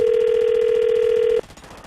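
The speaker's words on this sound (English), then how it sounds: "are you ready to give Jillian a call?" A steady telephone tone holds for over a second then cuts off sharply as a radio morning show places an on-air call, leaving quieter line noise.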